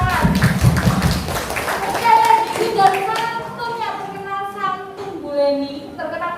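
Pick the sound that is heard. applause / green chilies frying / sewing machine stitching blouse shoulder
applause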